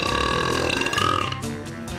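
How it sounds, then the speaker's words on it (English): A single very loud, long burp from a world-record holder, a deep rasping belch that rolls on for about a second and a half before tapering off, heard alone with no talking. "he holds the world record for the loudest burp"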